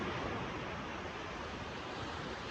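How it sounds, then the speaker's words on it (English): Atlantic Ocean waves wash in a soft, continuous roar of surf, faint and distant, with a steady wash and no talking. "just like the waves of this beautiful, grand ocean that come and go"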